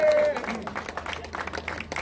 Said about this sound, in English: Give it a one big functional applause.